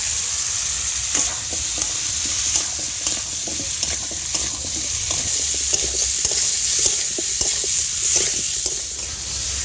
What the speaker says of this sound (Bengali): এবার আলুটা এই মশলার সাথে ভালো করে কষিয়ে নেব।